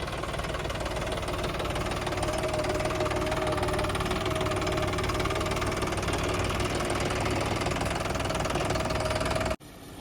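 Engine of a farm fertilizer-spreading machine running steadily after start-up, a loud, even mid-pitched rumble with a faint knocking tone, close and continuous for about ten seconds before cutting off abruptly near the end.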